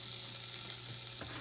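Ginger sizzling in hot oil at the start of a wagyu beef ramen, a steady close hiss with a faint clink near the end, brief and without any talking.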